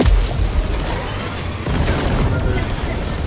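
A grenade blast in Helldivers, a heavy boom at the start followed by a dense, rumbling roar that fills the whole span, with a voice briefly talking in the background.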